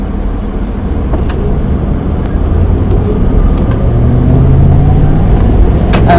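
A car driving on the road and turning at a traffic light, a loud continuous low rumble of engine and road noise that swells slightly toward the end, with a few faint clicks.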